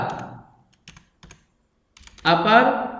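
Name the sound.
typing on a computer keyboard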